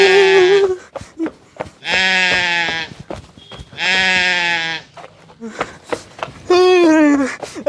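A billy goat bleats loudly and close by in three long wavering calls, ending in a shorter cry, with sharp clicks and bumps between the calls.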